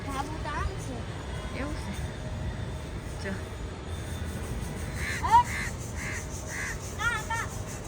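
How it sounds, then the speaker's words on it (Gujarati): Several crows caw in short bursts against a low background rumble, with a few repeated caws clustered near the end. "તો બોલે કાગડો"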